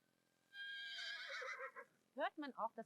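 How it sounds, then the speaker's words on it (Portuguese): A Senner horse neighs close by in one long, loud whinny that trails off, followed by short snorting bursts. "Você sabe identificar o relinchar de um Senner?"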